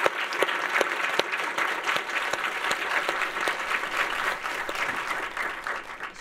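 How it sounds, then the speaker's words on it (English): Audience at a speaker series event applauding a speaker named Jen, a steady wash of many clapping hands with a few sharper claps standing out, moderately loud and continuous throughout without talk. "please join me in giving Jen a huge, warm round of applause"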